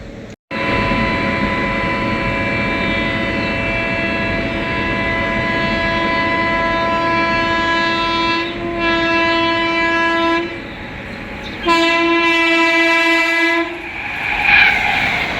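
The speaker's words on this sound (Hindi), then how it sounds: "आ रही है अब 22/811 भुवनेश्वर तेजस राजधानी एक्सप्रेस अपनी अमृत भारत एक्सप्रेस को ओवरटेक करने हैं हाथरस जंक्शन पे" Bhubaneswar Tejas Rajdhani Express passing Hathras Junction as it overtakes an Amrit Bharat Express, its loud horn blaring in long sustained blasts with short breaks over the steady rumble of rolling wagons close by.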